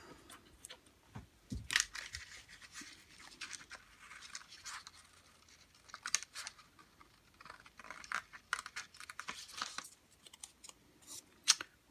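Scissors cutting paper to make a paper menorah, with faint, close snips and crisp rustling in irregular bursts and short pauses in between, heard alone in a quiet room.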